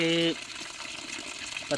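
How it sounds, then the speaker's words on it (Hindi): Natural spring water pours steadily from a stone spout in a Kashmiri village, a continuous close gushing wash that carries through the whole moment while someone speaks over it. "जिससे पानी बाहर की तरफ आ रहा है"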